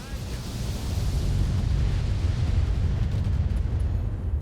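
Mech weapons fire in the BattleTech video game, a sustained low rumble of explosions and bursts held at a moderate level throughout.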